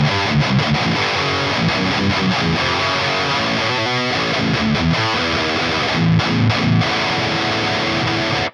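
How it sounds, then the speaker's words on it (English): An electric guitar played through a Tube Screamer plugin into a Neural DSP Omega amp sim with a DV77 impulse response: a dense, heavily distorted riff with chugging palm-muted chords and quick note runs, loud and upfront throughout, cut off sharply at the end. "So I'm playing a Tube Screamer plugin into the Neural DSP Omega."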